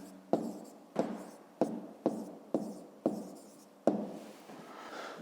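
A pen writes the answer to a fifth-grade math exercise in a notebook, with about seven short, distinct scratchy strokes in an even rhythm, close and quiet.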